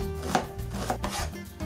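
A knife dices a white onion into small cubes on a cutting board, with a few distinct chopping knocks at a steady pace, close and fairly loud.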